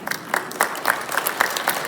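A church congregation breaks into applause during a homily at a Saturday evening Mass, a short burst of scattered, moderately quiet clapping from many hands with no voices over it.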